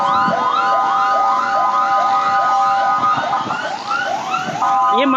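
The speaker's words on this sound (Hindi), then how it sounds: "ये एम्बुलेंसें आ रही हैं।" Multiple ambulance sirens wail together in rapid rising sweeps, loud and continuous, with a busy background of voices and traffic, at a plane crash site in a residential area of Karachi.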